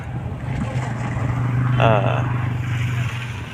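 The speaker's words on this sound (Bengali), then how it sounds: "একটা নৌকা যাচ্ছে দেখছি, ওই দূরে একটা নৌকা দেখা যাচ্ছে" A boat crossing the water of Kankana Baor, a lake near Gobardanga: a steady low engine drone with washing water noise throughout, and a voice speaking briefly over it.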